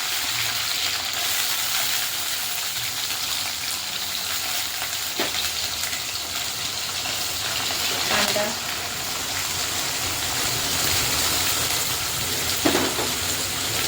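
Boiled potatoes tipped into a pan of chillies and curry leaves frying in oil for batata pohe, giving a steady broadband sizzle with a few soft clunks as pieces land and get stirred.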